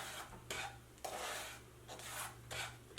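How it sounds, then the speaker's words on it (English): Moong dal powder being stirred in a pan over low-medium heat, with repeated scraping and rubbing strokes in a slow, even rhythm, close and fairly quiet, with no talking. "Mix it and keep stirring"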